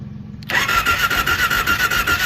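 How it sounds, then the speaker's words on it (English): A four-wheeler engine cranks and catches on a jump starter, firing abruptly and then running in a loud, close, pulsing idle. "Start the four-wheeler."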